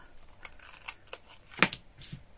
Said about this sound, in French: On va venir couper ce qui déborde.